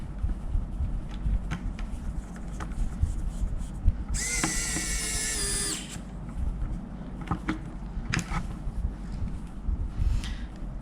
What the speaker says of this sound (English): don't use an electric screwdriver and stuff like this, you're going to strip the screws